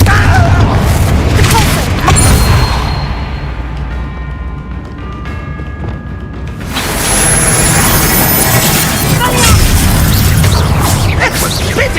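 A Confringo blasting spell in a Harry Potter video game sets off a loud, booming explosion that swells and rumbles before fading, followed by a second burst of crackling blast noise.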